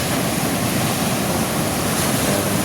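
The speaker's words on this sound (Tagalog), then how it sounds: "lakas ng ulan" Dense, steady hiss of heavy rain pours without a break, loud and close, with no voices.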